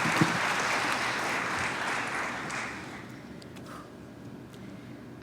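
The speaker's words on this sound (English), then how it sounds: "Please give a round of applause and welcome Brooke to the stage" Audience applause at a Title IX 50th anniversary celebration, a steady dense wash of clapping that holds strong, then gradually thins and softens toward the end, with no talking over it.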